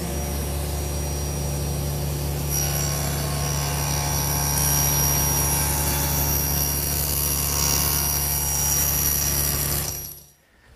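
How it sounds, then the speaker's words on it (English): A table saw cutting partway into a wooden leg, a loud steady motor drone with a whining hum that holds for about ten seconds, then the blade winds down and it falls quiet. "I'll do that over at the table saw. Now the first step is to just cut through this leg."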